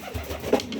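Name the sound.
pigeon cooing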